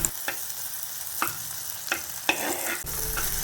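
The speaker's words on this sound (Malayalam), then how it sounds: "തക്കാളിയും കൂടി നന്നായിട്ടൊന്ന് വഴറ്റിയെടുക്കാം." Tomatoes sauté in a pan for a Kerala-style drumstick leaf curry, a steady sizzle broken by several sharp scraping stirs of a spoon, close and moderately loud with no voices.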